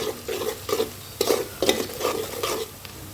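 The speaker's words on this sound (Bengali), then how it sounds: "এর মধ্যে এলাচ দারচিনি দিয়ে তেজপাতা দিয়ে ভালো করে মিশিয়ে নেব" Cardamom, cinnamon and bay leaf stirred in a hot pan for khichuri, a spoon scraping in repeated strokes over a steady sizzle, close and fairly loud with no talking.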